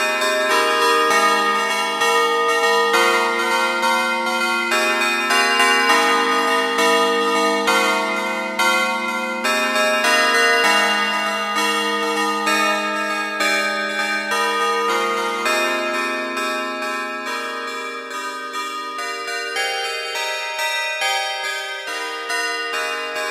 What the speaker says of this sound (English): create your own bell sounds within the plugin